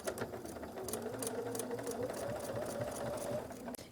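A sewing machine stitches fabric for a drawstring bag, a quick, even whirring run of needle strokes lasting a few seconds close up, then stopping abruptly.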